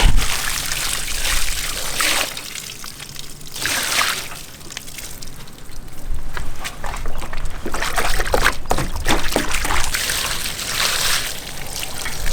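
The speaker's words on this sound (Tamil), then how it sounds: "நண்டு தண்ணி வச்சு ஒரு கழுவி விடுங்க." Water is poured and sloshed to wash crab in an outdoor village kitchen, with trickling and splashing that rises and falls in irregular bursts over a noisy background.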